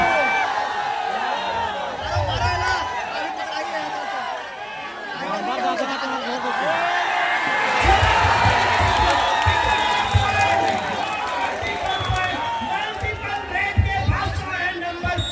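A stadium crowd at a village football final fills the air with dense chatter, shouts and scattered cheering, a continuous loud babble with bursts of clapping mixed in throughout.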